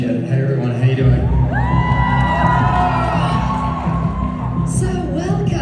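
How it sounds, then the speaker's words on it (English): A convention audience at a German comic con panel in Dortmund cheers and whoops loudly and steadily for the whole stretch, a dense crowd roar with a few shouts rising above it. "Round of applause!"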